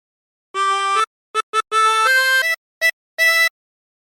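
Harmonica playing the opening phrase of the sea shanty Wellerman without bends, a run of close, reedy notes of mixed length, some held and some clipped short, with brief gaps and no voices.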